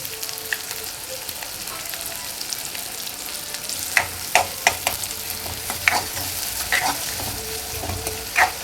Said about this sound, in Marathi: कांदा छान सॉफ्ट गोल्डन ब्राऊन होईपर्यंत फ्राय करून घ्यायचा आहे.